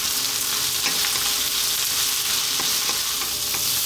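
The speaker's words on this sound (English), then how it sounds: "And then we're going to drop in our eggplant, or whatever name you call that." Eggplant frying with garlic and ginger in a pan gives a loud, dense, continuous sizzle, with occasional soft clicks of stirring mixed in.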